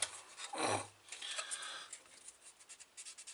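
Rasping, scraping strokes on the body of a DS 21 Pallas scale model car, a dense burst early on followed by a run of quicker, lighter rhythmic scratches close up with no talk.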